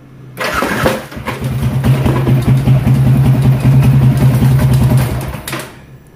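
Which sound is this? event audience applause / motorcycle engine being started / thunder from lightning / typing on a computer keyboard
motorcycle engine being started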